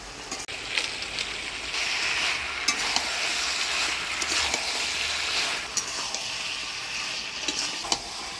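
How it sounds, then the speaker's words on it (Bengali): Winter vegetables and kalai lentil dumplings are stirred in a pan for a vegetarian dish, with a continuous sizzling hiss under repeated scraping strokes and light clicks of the spatula, close and alone. "এবার ডালের বড়ি দিয়ে আর একটু নাড়াচাড়া করে নিই"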